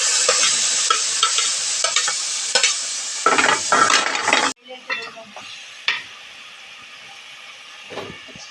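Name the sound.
stirring jackfruit seeds in a pan for moringa leaf thoran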